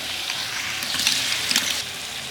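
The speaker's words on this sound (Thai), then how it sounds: "ใส่มะเขือเทศ แล้วก็ผัด ใส่ขิงบด" Onions, tomatoes and crushed ginger stir-fry in a large pan for a beef curry for 70 people. A steady, close sizzle runs throughout, with two louder bursts of scraping and stirring partway through.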